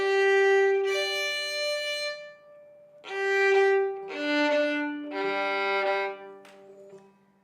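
Fiddle in cross G tuning, GDGD, with its open strings sounded in four sustained, ringing chords separated by short pauses, close and clear, with no talking.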